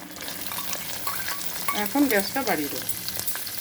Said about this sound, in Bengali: এটা লাল লাল হওয়া পর্যন্ত আমি ভাজবো।